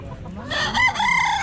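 A rooster crows once at a country poultry market, close and loud, in a short harsh call that rises and then falls.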